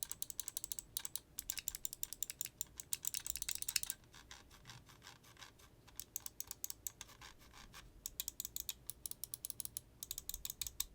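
Gaming mouse with Kailh 8.0 switches, its buttons clicked in quick, crisp bursts that are close-up and fairly quiet, pausing briefly before the rapid clicking resumes.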